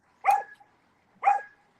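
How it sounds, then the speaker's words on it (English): A dog barks twice, about a second apart, each bark close and clear against an otherwise quiet background. "Look, even the dog wants them to do something."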